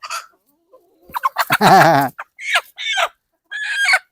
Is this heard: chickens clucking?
yes